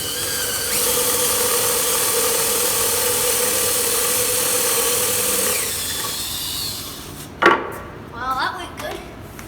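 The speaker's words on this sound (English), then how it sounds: "this is a 3/8 speed bore bit, a little 3/8 bit. So let's try and drill into this here." A drill drives a 3/8 speed bore bit into wood about 1.5 to 2 inches thick, a steady whining motor hum for several seconds that cuts off, followed by a few brief knocks and rustles.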